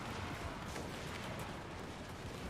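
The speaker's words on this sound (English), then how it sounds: "Gunfire in the middle. There's just guns everywhere." Dense battlefield gunfire in the Total War Warhammer 2 strategy game, a continuous crackling barrage of overlapping shots and booms, loud and steady with no voices.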